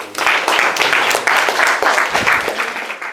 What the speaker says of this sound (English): Clap it up for Jesus